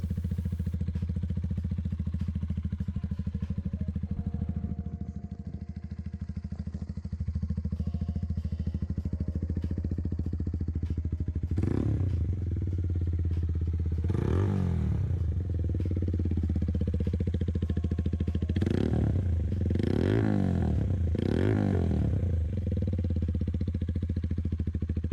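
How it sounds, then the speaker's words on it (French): A Honda CBR 125R fitted with a Black Widow aftermarket exhaust idles steadily nearby, then gives one sharp rev, another a few seconds later, and a quick burst of three throttle blips near the end. "Il a été remplacé par un échappement Black Widow qui a une sonorité que je trouve excellente."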